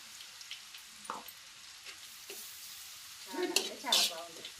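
Crushed garlic fries in a pan with a faint, low sizzle, marked by a few short scraping stirs and a brief burst of louder activity near the end; a voice is briefly heard.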